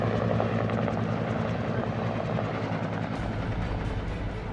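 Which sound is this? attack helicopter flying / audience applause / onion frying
attack helicopter flying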